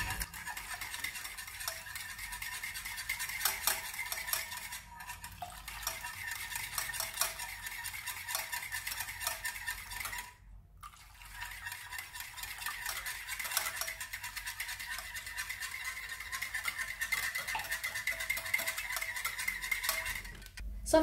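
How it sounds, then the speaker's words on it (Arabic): Warm milk is poured in gradually while a dough mixture for Turkish chicken and spinach pies is stirred, giving a steady scraping, swishing stir that pauses briefly twice, with no talking. "غنخويو الحليب دافي شويه بشويه"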